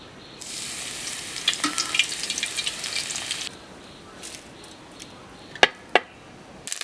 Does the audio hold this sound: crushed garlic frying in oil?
yes